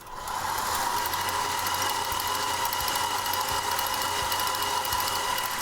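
Electric stand mixer with a whisk attachment beating royal icing, a steady close motor hum with a high whir that holds evenly throughout without pauses.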